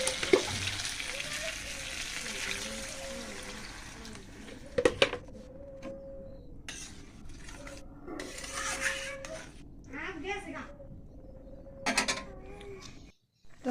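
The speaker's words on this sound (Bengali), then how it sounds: "এই তো পাতাকপিটা এটা ভাজি করে দিব" Chopped cabbage frying in a pan on a home stove, with a steady hiss and crackle throughout, interrupted by metal utensil scrapes and clinks against the pan.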